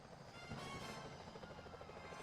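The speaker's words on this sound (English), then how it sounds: "Those security choppers are bad news." Security helicopters in the video game Sly Cooper: Thieves in Time give a steady rotor drone with rhythmic chopping, loud and continuous throughout with no talk.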